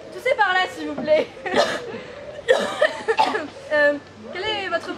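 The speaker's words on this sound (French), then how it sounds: "Toussez par là, s'il vous plaît." A performer coughs on request during an outdoor theatre sketch, giving short rough coughs mixed with chuckles and lively voices close to the microphone.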